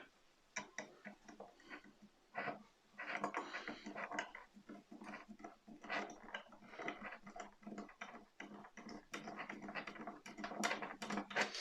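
Small screwdriver ratcheting and clicking as it forces a JM screw into a die-cast Ghostbusters Ecto-1 model's right front suspension, a close run of irregular ticks and scrapes with short pauses.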